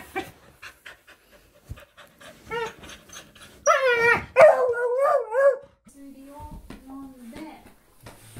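A dog pants in quick soft bursts, then breaks into several loud, wavering howls and whines up close before settling into lower moans, with no talk over it.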